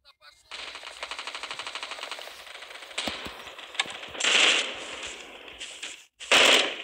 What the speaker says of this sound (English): Why, why did I just shoot my own gun?